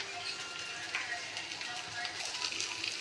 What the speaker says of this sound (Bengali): যে ডিম পাতায় ভাজা হচ্ছে